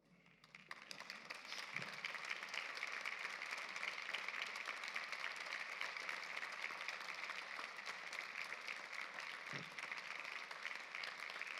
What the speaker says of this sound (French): et que vous les remerciez en les applaudissant